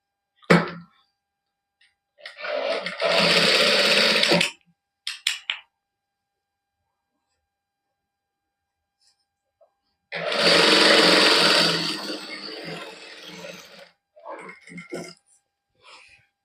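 Sewing machine running basting stitches along the sleeves of a printed cotton suit, in two long bursts of steady whirring, each followed by short stops and starts, with no talking.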